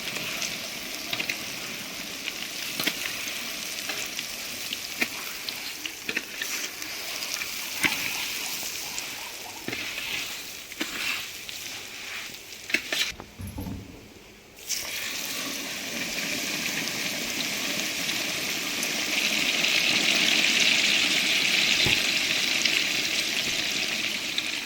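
Fenugreek seeds fry in hot oil for pickle-making and are stirred with scrape and clink, making a continuous close sizzling hiss with short scraping strokes. The hiss drops away briefly, then returns louder.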